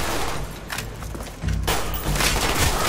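Shotgun fire in the video game Call of Duty: Black Ops, two heavy booming blasts a moment apart over dense, noisy battle ambience.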